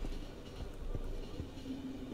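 Train rumbling along in the video game The Final Station, a quiet low rolling drone with faint rhythmic knocks and a brief thin tone toward the end, no talking.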